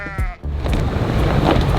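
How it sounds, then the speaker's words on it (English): Goats bleat on a mountain road in Socotra, Yemen, with a loud nearby call near the start, followed by a steady rumble of wind or a vehicle that carries on to the end. "mountains and a whole lot of goats"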